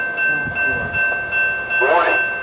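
SEPTA Silverliner IV and AEM-7 push-pull train approaching a grade crossing at Lansdale, with steady rail rumble, a sustained tonal whistle and a rising horn-like blast near the end, while a recorded warning voice speaks throughout.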